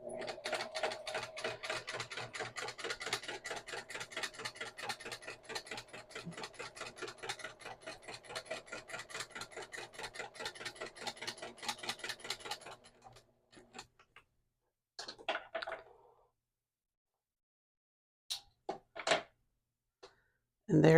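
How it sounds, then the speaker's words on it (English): A sewing machine with a double needle runs a steady, rapid stitching rhythm for about thirteen seconds of top stitching, then stops. A few brief, separate mechanical sounds follow in near silence. "So now I'm going to top stitch along here with the double needle"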